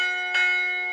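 A carillon church bell is struck once by its hammer, a bright metallic strike that rings on with sustained, slowly fading tones, alone and close.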